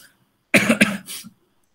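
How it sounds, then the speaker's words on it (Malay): A single sharp cough in a classroom lesson, close and loud, breaking into two or three quick bursts before fading to silence. "terbatuk lah cikgu"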